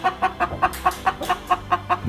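A broody hen clucking in a steady, rapid run of about ten close, evenly spaced clucks, loud and alone.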